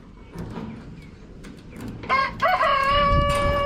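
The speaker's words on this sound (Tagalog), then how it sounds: "mga manok ko na yan yung binili natin sa bayambang" A rooster crows loudly and close by, with a few soft clucks from chickens just before it.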